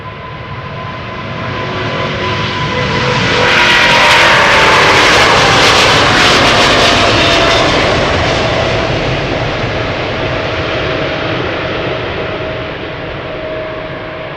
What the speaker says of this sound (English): This is KLM flight 677 going to Calgary.